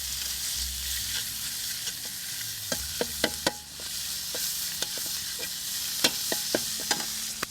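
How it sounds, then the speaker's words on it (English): Ingredients for Thai pad mee fry in a pan, a steady bright sizzle broken by sharp metallic clanks and scrapes of a utensil stirring, close and fairly loud with no talk. "Just give that a minute to fry, but don't overcook it"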